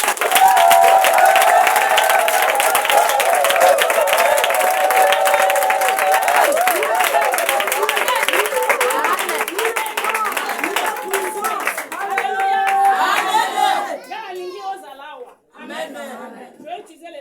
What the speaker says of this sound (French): tu acclames très fort pour le roi